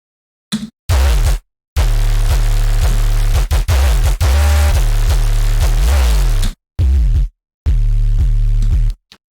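Heavily distorted, buzzing sub bass in several loud bursts separated by brief silences, harsh and saturated with gritty upper harmonics, processed in Ableton with Multipass.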